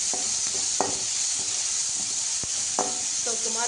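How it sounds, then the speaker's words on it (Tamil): Tomatoes and onions sauté in a pan with a constant close sizzle and hiss, broken by a few soft scrapes and a brief tonal squeak, with no talking. "தக்காளியும் வெங்காயமும் சேர்ந்து தொக்கு தாங்க வச்சுக்கலாம்"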